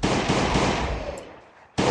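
Rapid automatic gunfire blasts at zombies in the survival game Last Day On Earth, forming a loud continuous burst that fades out before a fresh burst starts at the end.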